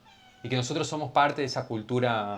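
A cat meows in a room while someone speaks Spanish, its cries mixed into and partly masked by her continuous talk.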